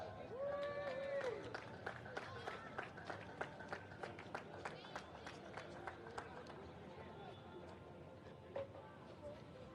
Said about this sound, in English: a round of applause for Louis Bataille